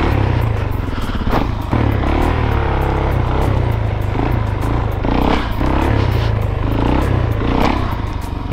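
A supermoto motorcycle engine revs hard and continuously while riding seated circles, loud and close, with repeated throttle surges and rhythmic pops and clatter over the drone.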